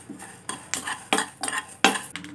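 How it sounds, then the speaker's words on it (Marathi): A spoon scrapes and clinks rhythmically through whole spices, mustard seeds, fennel, fenugreek and peppercorns, dry-roasting in a pan for carrot pickle, each stroke a close, distinct rasp, about five in quick succession. "1/2 चम्मच मोहरी आपण 2 मिनटं याला परतवून घेऊ"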